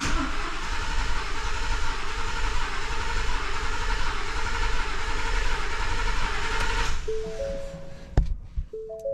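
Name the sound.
Ford F150 5.0 engine cranking without starting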